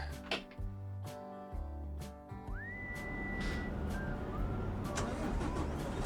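In Euro Truck Simulator 2, a truck engine with stock sounds cranks and catches, followed by a rising whine and a steady rumbling idle, with a few clicks beforehand.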